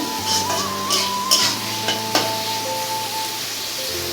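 Capsicum and other vegetables fry in a pan for egg chowmein, giving a soft, steady sizzle with a few stirring clinks. Sustained tones run underneath, and no one speaks.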